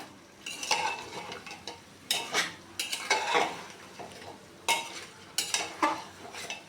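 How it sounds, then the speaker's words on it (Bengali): Chicken with red chili powder and turmeric is stirred in a pot, with a spoon scraping and clinking in repeated, uneven strokes over a low sizzle and no talking. "এবার একটু নেড়ে চেড়ে দিয়ে দিব লাল লঙ্কার গুঁড়া হলুদ মশলাটাকে"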